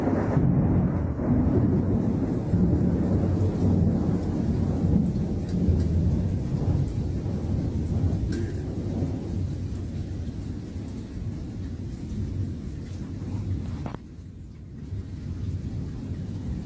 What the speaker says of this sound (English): It's just wicked thunder and lightning.